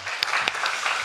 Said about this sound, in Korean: 우리 찬양을 받으신 주님께 감사와 영광의 박수 드립니다